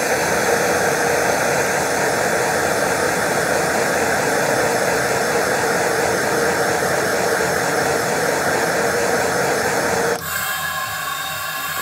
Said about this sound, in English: And the gas is kicked on.